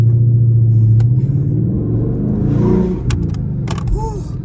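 A Ford Mustang GT S550 with a new SR Performance axle-back exhaust rumbles at idle with a deep, loud burble, then rises and fades in revs, with a few sharp clicks and brief voices nearby.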